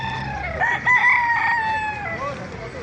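Roosters crow loudly at the Bocaue poultry market in the Philippines, one long call rising and falling near the listener, with a busy background murmur of a crowded market.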